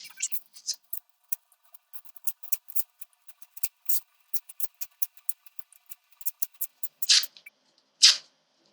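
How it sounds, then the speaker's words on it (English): Newspaper is torn by hand into small pieces, making a quick series of close, sharp crisp rips and rustles in irregular bursts, with two longer tears near the end. "take our newspaper and tear it up into a bunch of pretty little pieces"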